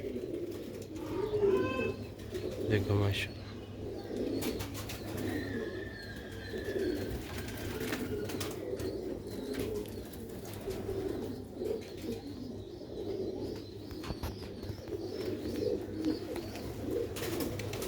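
Sialkoti pigeons coo in soft, repeated low calls close by, alongside faint chirps and steady background hum, with someone speaking briefly over them.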